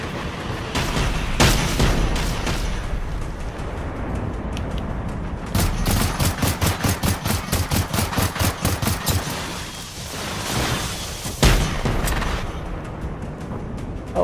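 Gunfire in the video game Generation Zero, Alpine Unrest DLC. Loud, dense bursts of rapid automatic fire keep coming in volleys, with a sharp single blast near the end and no talking.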